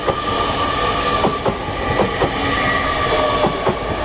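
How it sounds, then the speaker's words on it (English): LNER Azuma class 801 train passing at speed, steady rolling rumble with regular clicking wheel beats over rail joints and a faint whine, no voices. "coming in next we have an LNER Azuma service from London King's Cross to Leeds. operated by 801 109."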